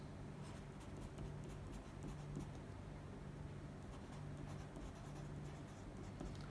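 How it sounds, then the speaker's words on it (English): Handwriting with a pen or marker on a paper color sample sheet, soft continuous scratchy strokes with brief pauses, close and faint over steady background hiss. "So underneath, I'm going to write ketchup."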